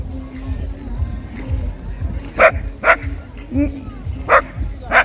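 A dog barks several times at irregular intervals, fairly close, near a pier in Arcadia, Odesa, over a steady low rumble outdoors, with talking mixed in.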